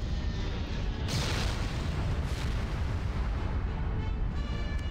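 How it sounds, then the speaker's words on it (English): An enemy Romulan ship is destroyed in a Star Trek starship battle video game, a loud, sustained rumbling blast with crackling bursts that roars on for several seconds without talk. "Simulated enemy ship has been destroyed."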